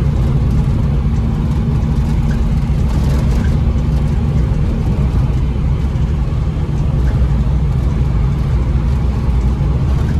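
Small Bedford HA van on the road, heard from inside the cab: a steady mid-pitched engine drone with low rumble and road noise, holding an even pace throughout with no talk.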